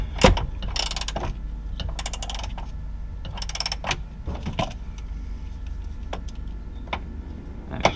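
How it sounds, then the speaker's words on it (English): Ratchet clicking rapidly as it loosens a 13 mm nut on the sway bar mounting bracket of a BMW E46, with short bursts of sharp metallic ticks and clanks up close, no talking. "Break off the 13 millimeter nut."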